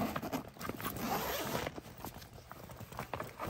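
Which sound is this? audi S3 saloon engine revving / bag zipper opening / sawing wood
bag zipper opening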